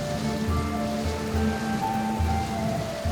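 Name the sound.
heavy rain pouring down, sound effect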